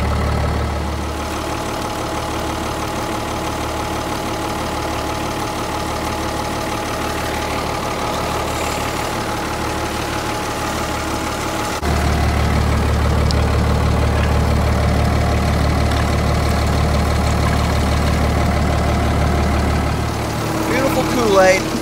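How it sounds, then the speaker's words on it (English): A tractor engine idles steadily while driving a PTO pump filling a tank, a low continuous rumble that steps up louder partway through; someone speaks over it at times. "it'll just pump until the tank's empty if I don't watch it"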